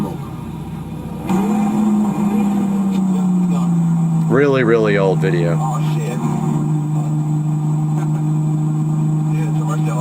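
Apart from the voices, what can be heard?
Lamborghini Murcielago engine in a played video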